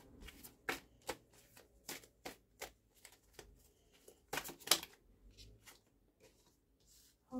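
Tarot cards being shuffled and drawn, with soft crisp riffles and slaps of card stock in an irregular rhythm, close and quiet, and a louder flurry partway through.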